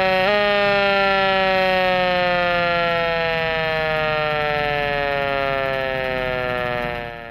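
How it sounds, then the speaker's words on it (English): A loud mechanical fire engine siren wails steadily, its tone slowly sliding lower as it winds down before fading near the end. "Engine 2 siren may soon become a more familiar sound to City of Greer residents"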